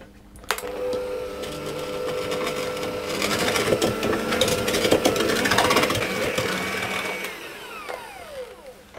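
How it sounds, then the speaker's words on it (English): Butter, sugar and salt are whirred together in a mixer, a loud, continuous motor whine with grinding and rattling that runs steadily throughout and ends with a brief knock, no talking. "I'm going to mix that together."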